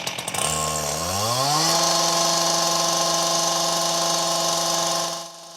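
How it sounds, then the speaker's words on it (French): A chainsaw revs up from idle to a steady, loud, high-pitched whine, holding full throttle for several seconds before cutting off abruptly, with no talking. "La tronçonneuse, ça fait du bruit et ça fait mal aux oreilles"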